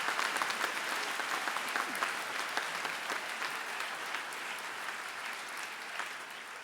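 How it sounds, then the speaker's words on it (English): A crowd at the 2007 UC Santa Barbara College of Creative Studies commencement applauds the graduates, with dense sustained clapping that softens slightly toward the end. "Let's give them applause for that."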